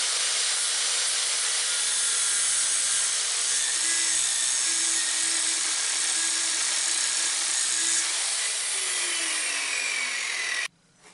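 An angle grinder dresses the steel of a salvaged garden hoe with a loud, continuous high-pitched grinding whine that holds steady for about ten seconds before cutting off abruptly.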